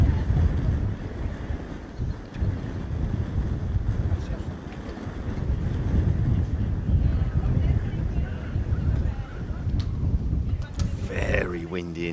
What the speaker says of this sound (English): Very windy indeed.